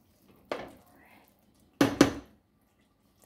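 Rice is stirred in a cooking pot with a few separate scrapes and knocks, one short clink followed by a quick double scrape, set against quiet gaps.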